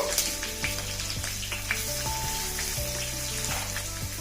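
Cashews frying in a pan, a continuous crackling sizzle close by, with soft background music running underneath.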